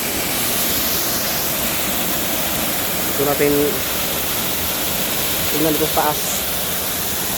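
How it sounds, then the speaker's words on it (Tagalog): Steady broadband roar of water plunging from the top of a river waterfall, loud and continuous throughout, with a voice speaking briefly over it near the middle and again toward the end. "Sa taas ng talon. Diyan bumabagsak yung tubig."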